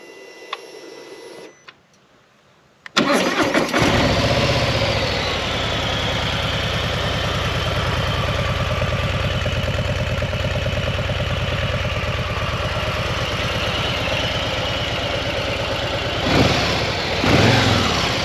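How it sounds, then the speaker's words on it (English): A Harley-Davidson Low Rider ST cranks over with a short click and whir, fires up loudly near 3 seconds, then settles into a steady, close, throbbing idle with a slight rev toward the end. "I need to start this up for you so you can hear the way that it cranks over before it fires up and then settles into a nice throb"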